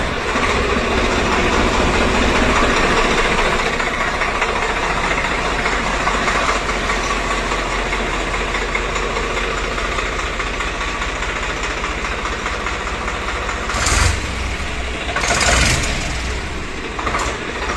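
Swaraj 744 tractor engines, top and base models, run loud and steady, a continuous diesel drone with a few brief louder surges near the end.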